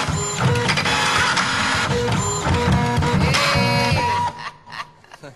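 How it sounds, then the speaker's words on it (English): A printer runs continuously with a loud mechanical whir and rattling, under music in a dance competition show, then cuts off abruptly near the end. "Printer, jam."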